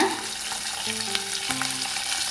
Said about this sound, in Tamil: சின்ன வெங்காயம் முழுசாக தான் போடுறோம் பாருங்கள். பூண்டையும் போட்டுக்கலாங்க.